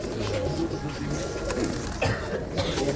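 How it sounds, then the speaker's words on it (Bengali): Pigeons coo steadily at a busy pigeon market in Saruliya, Bangladesh, with soft overlapping coos close by over market bustle. "বন্ধুরা দেখছেন এখানে এক ভাইয়া অনেকগুলো কবুতর নিয়ে আসছেন"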